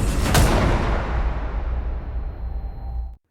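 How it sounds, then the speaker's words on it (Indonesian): A gunshot in a film, heard as a single loud, full-band boom that cracks sharply and then rolls into a long, dense rumbling decay, with no talking over it. "secara mengejutkan Marta terkena tembakan Osvaldo"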